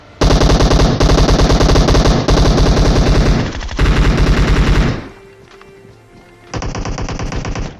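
Video game gunfire, loud sustained automatic machine-gun bursts in long rapid strings, close and dense, with a short quieter gap before firing resumes.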